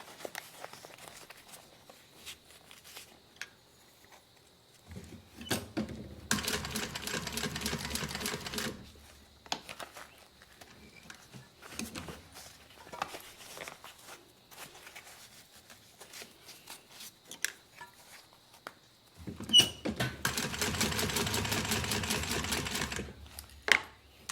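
A sewing machine stitching fabric around a curve of a thigh bag, running in two long close bursts of rapid whirring with short stops and fabric handling noises in between.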